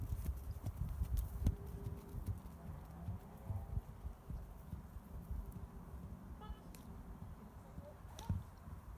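A horse's hooves clip-clop at an unhurried pace outdoors, moderately close, with some birds and faint background noise around them.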